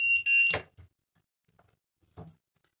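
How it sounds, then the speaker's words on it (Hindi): The buzzer on a 3.5-inch FPV cinewhoop drone gives a sharp, piercing beep right at the start, with a couple of short chirps close by. Faint clicks and handling noises follow in near silence. "ये देखिए, मैं दोबारा दिखा देता हूँ कि बजर कैसे काम कर रहा है।"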